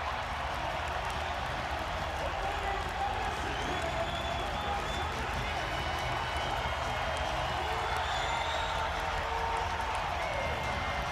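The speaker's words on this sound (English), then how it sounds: "Listen to this crowd." A packed arena crowd of about 16,000 roars and cheers at a college wrestling match between Penn State and Ohio State, a steady wall of distant crowd noise with clapping mixed in throughout.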